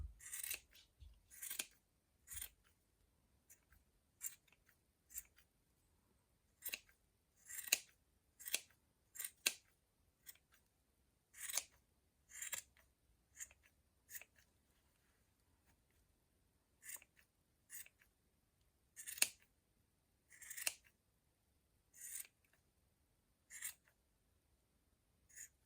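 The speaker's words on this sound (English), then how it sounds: "If you see the odd little loop, just cut them through." Scissors snip through stray yarn loops while a pom pom is trimmed, giving sharp, close, quiet cuts in irregular bursts of one to three snips with short silences between them and no voices.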